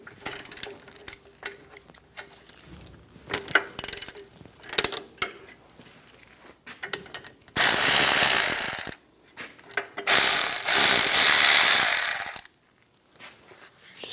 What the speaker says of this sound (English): Loosen up the caliper bolts.